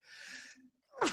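A single sharp sneeze bursts out after a brief breathy intake, close and abrupt.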